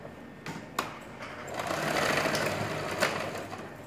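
A sewing machine runs a straight seam around a cargo pocket on children's bermuda shorts, a steady close whir that swells in the middle, with a few clicks of handling.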